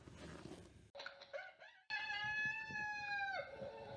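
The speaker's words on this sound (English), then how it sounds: "Somebody knocked that rooster in the head." A rooster crows in a long, drawn-out call that rises and holds steady before trailing off. It is fairly close and stands alone after a few shorter clucking or squawking sounds.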